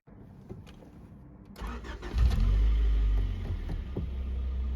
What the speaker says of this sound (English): I know some of you are a big fan of that traditional Honda startup sequence.